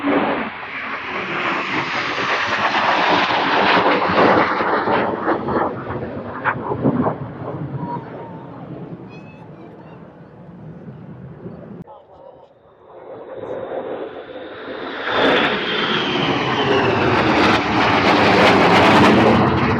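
Red Arrows jets make a flypast at Trooping the Colour 2024: a broad, loud roar builds and holds, dips briefly, then swells again, with voices and crowd noise mixed in.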